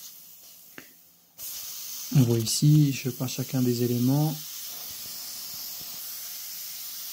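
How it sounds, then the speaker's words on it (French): A steam cleaning machine blasts a Breitling watch case with a steady loud hiss that starts abruptly and runs throughout, with someone talking over it for a couple of seconds in the middle. "La première, c'est une machine à vapeur."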